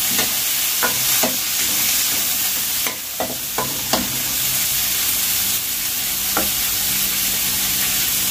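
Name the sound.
frying tomatoes in a pan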